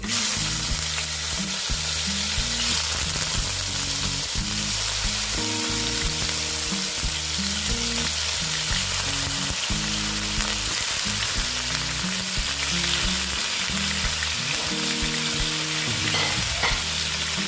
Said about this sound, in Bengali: এই যে মাছগুলো এবার আমি ভেজে নিচ্ছি